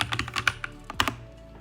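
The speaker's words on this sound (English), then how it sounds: "we just simply need to type brew install InfluxDB and hit enter" Several quick keystrokes on a Mac computer keyboard, close and clear in an irregular burst of clicks, with one heavier key press near the end and a quiet tail afterward.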